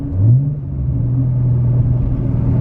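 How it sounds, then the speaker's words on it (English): A manual-transmission car coasts and then downshifts into third gear. A low engine rumble swells as the revs jump and then holds steady, heard close and loud with no voices. "So now we're gonna let it coast, downshift in the third."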